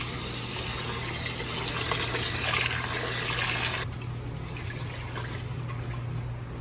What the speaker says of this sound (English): Now we're going to add the water and wash the rice.